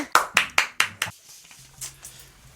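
A handful of sharp, loud hand claps land in a quick uneven burst of about five, then fade into quiet room tone while faint low voices continue.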